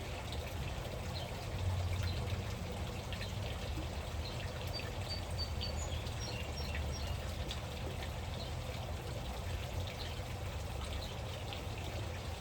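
Pool water trickles and pours into a small plastic test vial, a soft, steady running stream heard faintly and close with no talking.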